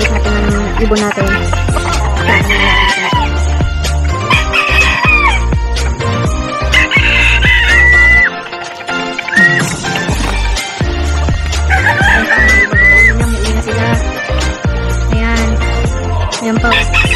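Roosters crowing loudly and repeatedly outdoors, several long crows rising over steady clucking and other fowl noise, with the birds close and dominant throughout.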